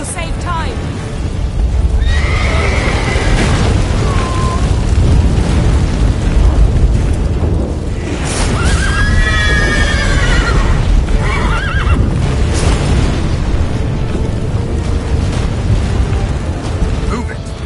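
In The Witcher 3 video game, horses neigh and whinny repeatedly amid loud, rumbling battle noise, with hooves clattering underneath throughout.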